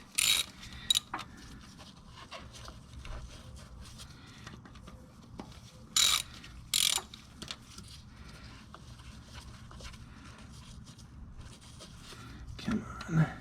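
A ratchet works loose the carburetor bolts on a 1976 Celica GT, with short, close bursts of rapid clicking separated by quieter stretches of handling and shuffling noise.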